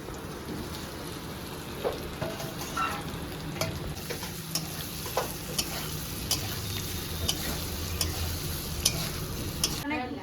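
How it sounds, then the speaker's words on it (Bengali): Pre-fried potatoes tumble into hot oil in a wok for aloo dum, setting off a steady close sizzle with scattered clicks of stirring and spoon taps over a low frying bed. "এখানে যে আলুগুলো ভেজে রেখেছিলাম ওগুলো দিয়ে দিচ্ছি"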